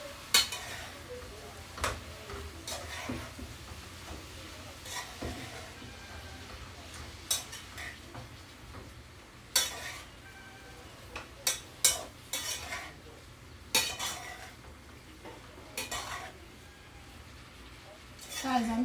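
A spoon stirring black pepper into vegetables in a pot gives scattered clinks and scrapes against cookware, intermittent and fairly close, with a low background hum and a voice talking over parts of it.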